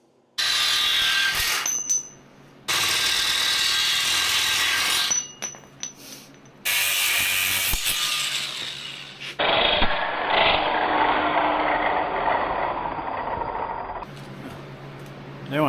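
Cut-off wheel slicing through steel 3-point hitch tabs on a tractor bucket build, a loud sustained bright grinding whine in several long bursts with short pauses, then a lower, rougher steady grind toward the end.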